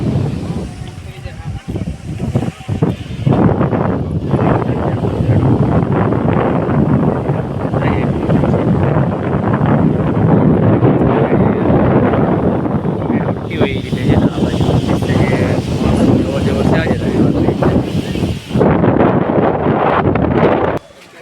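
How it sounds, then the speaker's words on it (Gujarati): Strong wind gusts over Willingdon Dam near Junagadh beneath Girnar hill, roaring loudly and buffeting the microphone almost without pause from start to finish. "પવન પણ જોરદાર છે વિલિંગડન ડેમની માથે અવાજ પણ આવતો છે"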